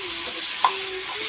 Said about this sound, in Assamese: এতিয়া মই ফেটালি থোৱা ইলাচি দালচেনি লং এইখিনি দি দিম অলপ ধনিয়া পাউডাৰ দি দিলোঁ